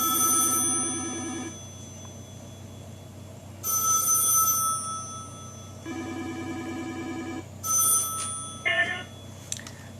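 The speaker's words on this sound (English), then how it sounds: "demonstrate the way it cuts off the ringing when an incoming phone call is entered on the Nortel" A telephone bell on a 1A2 key system rings for an incoming outside-line call in bursts separated by pauses, close and clear, with a brief click and clatter near the end as the ringing is cut off.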